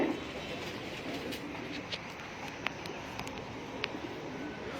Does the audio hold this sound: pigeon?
yes